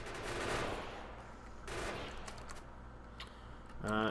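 Gun turrets in the video game Factorio fire ammo during a fight, producing bursts of rapid gunfire that swell and fade, mixed into background game noise.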